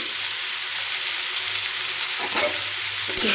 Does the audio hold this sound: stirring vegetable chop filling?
yes